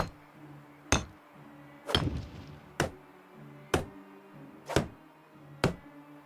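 Repeated hammering while a woodshed goes up in the video game Medieval Dynasty: sharp, evenly spaced knocks about once a second, close and clear, with a faint background tone and no talking.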